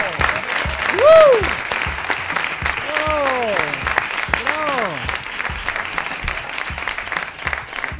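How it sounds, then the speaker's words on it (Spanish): A television studio audience on a Spanish comedy show applauds and cheers, a loud burst of clapping with whoops and rising vocal shouts layered over it, lively and close throughout. "Estamos aplaudiendo, pero no sabemos lo que, ¿eh?"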